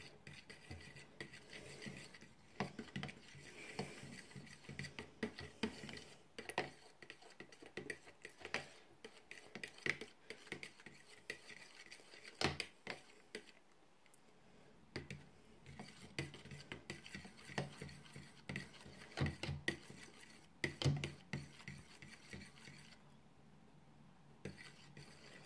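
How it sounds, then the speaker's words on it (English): A fork stirring milk, oil and egg together in a bowl for Christmas pudding muffins, with quiet, irregular clinking and scraping of metal against the bowl, close by and faint throughout. "mix the milk, the oil and the egg with a fork"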